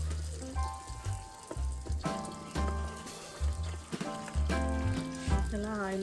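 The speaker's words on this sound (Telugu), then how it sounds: "ఇలా ఆయిల్లో వేసుకున్న తర్వాత అలా కొంచెం పొంగు వచ్చిన తర్వాత దాన్ని తిప్పి ఫ్రై అయిన తర్వాత మళ్ళీ చూపిస్తాను." Ariselu, rice dough balls coated in sesame seeds, sizzle steadily in hot oil for Andhra Sankranti cooking, a soft continuous frying hiss running under louder background music.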